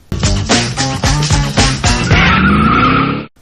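Loud, close tyre squeal from a car doing a burnout, with an engine revving in rhythmic surges before a sustained screech that cuts off abruptly.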